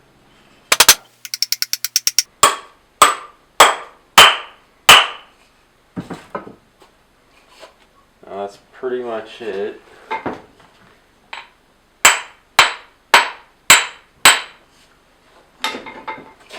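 Sharp metallic hammer strikes drive a wedge into the eye of a hammer handle. Several runs of evenly spaced, ringing blows are broken by a stretch of clattering and a man's brief speech.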